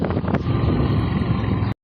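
Brief, loud gusts of wind buffeting the microphone, a low roaring rumble that cuts off abruptly.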